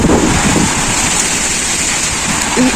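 An approaching thunderstorm, with steady heavy rain and a dense wash of wind noise filling the whole scene and a low thunder rumble underneath, loud and continuous.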